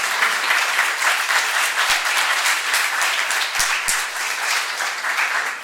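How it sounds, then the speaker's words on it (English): Steady applause from a lecture audience greeting a guest speaker, dense and sustained clapping from many hands that fills the whole stretch at an even level. "you can clap for him"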